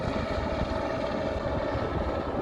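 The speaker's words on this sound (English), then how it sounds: "What you hear in the background is a helicopter that just have dropped some supplies for the cabin." A supply helicopter near a remote mountain cabin on the Hardanger Plateau, its rotor and engine making a steady, continuous droning thrum at moderate distance with no other sounds.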